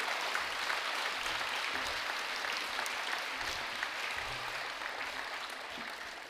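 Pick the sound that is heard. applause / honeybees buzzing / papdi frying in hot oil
applause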